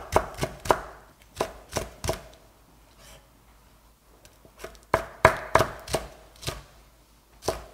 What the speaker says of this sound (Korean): 이거 썰을 때 이렇게 썰으면 칼이 잘 안 들어가요. 엎어놓고 썰어 보세요.